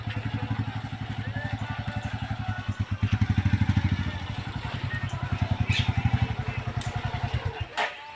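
Motorcycle engines chug steadily with a rapid, throbbing exhaust beat near a hilltop tourist spot at Huthridurga. The sound is loud and close, swells slightly midway, then cuts off near the end.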